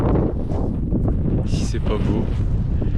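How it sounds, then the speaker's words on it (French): Wind buffeting a microphone on an empty beach, loud low rumble and gusty noise throughout, with someone speaking briefly over it. "Le vent fait chier"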